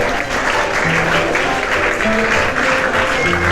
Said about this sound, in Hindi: एक बार जोरदार तालियां बालिकाओं के लिए